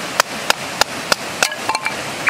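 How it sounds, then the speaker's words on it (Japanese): Firewood is split at a campsite in Doshi no Mori, with sharp, regular wooden knocks roughly every third of a second, followed by a few quicker, lighter clacks. "よくキャンプ動画で見る薪割り"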